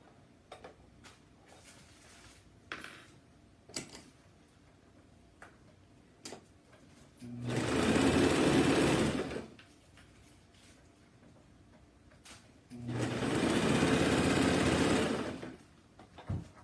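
A sewing machine stitches a camisole at a dining room table in two steady bursts of about two and three seconds each, with quiet pauses and small handling clicks between the runs.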